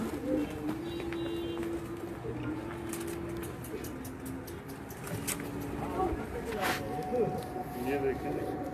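Pigeons in a bird gallery coo in soft, repeated throaty calls close by, while people talk over them throughout.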